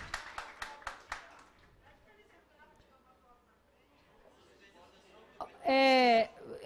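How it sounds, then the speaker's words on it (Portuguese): A short burst of applause at a city council session: a handful of sharp claps in the first second, then a hushed room with faint voices and a sudden louder voice near the end. "Palmas aos escoteiros."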